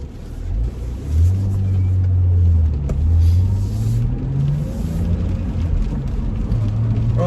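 A 2008 BMW Z4 2.5Si E85 roadster drives over a bumpy road, its engine giving a steady low hum that rises briefly with revs, over road rumble and occasional knocks, with someone talking at times.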